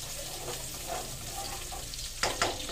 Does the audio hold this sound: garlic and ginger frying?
yes